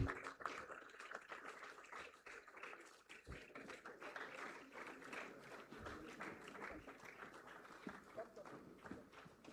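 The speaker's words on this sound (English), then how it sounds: "Let's give him another round of applause," Brisk applause at the SGC Proficiency Award ceremony, many hands clapping in a fast, crackling patter that continues throughout while voices chatter and call out over it nearby.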